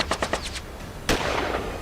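Gunshots in news footage: a quick burst of three or four sharp cracks, then one louder blast with a long noisy tail, distant and slightly muffled.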